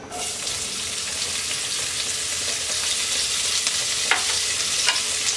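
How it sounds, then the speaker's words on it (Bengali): Steady sizzling of chopped onions and whole cumin seeds frying in oil, a continuous broadband hiss with a couple of light scraping clicks near the end; no voices. "পেঁয়াজটাকে হালকা ভেজে নেব"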